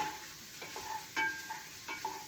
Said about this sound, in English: browning that sausage